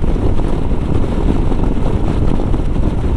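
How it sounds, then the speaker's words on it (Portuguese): Strong wind turbulence buffeting a rider's helmet on a Royal Enfield Himalayan motorcycle riding on the highway along the north coast of Bahia, a loud, constant low rushing roar with rough fluttering, with no voices. "E tá uma turbulência muito forte aqui no capacete."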